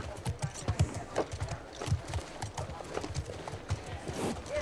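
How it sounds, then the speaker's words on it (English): Horse hooves clip-clopping in a quick, uneven rhythm, close by, in The Last of Us Part II video game, with a voice speaking over them at times. "And the horse Shiver"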